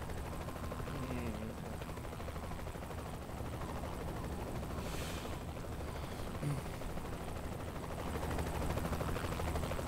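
Helicopter in the video game Saints Row 3, a steady dense rotor roar filling the whole stretch with constant loudness, mixed with game action noise and brief bursts.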